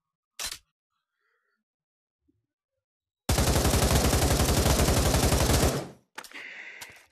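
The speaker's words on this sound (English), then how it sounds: "I sprayed bullets all over." A gun fires a single crack, then after a pause unleashes a long rapid-fire burst of evenly spaced shots lasting a few seconds, followed by a shorter rattling burst, loud and close with no talk.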